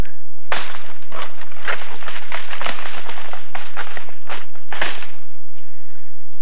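A rapid series of sharp clacks and rattling knocks of deer antlers struck and ground together, imitating fighting whitetail bucks, in irregular bursts with short pauses, no talking.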